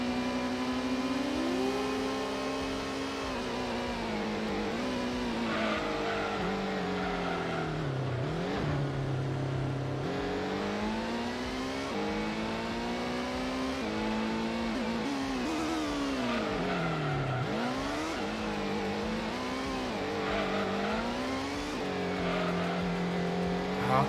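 Race car engines in Gran Turismo, with an NSX among the cars, howl continuously and loudly, rising and falling in pitch through gear shifts and corners with no pauses.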